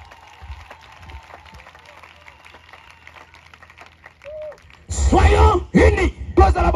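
A church congregation at a pastor's gathering in Oyo bursts into loud applause and shouted acclaim, arriving suddenly after a quiet, murmuring stretch and surging in waves through the final seconds.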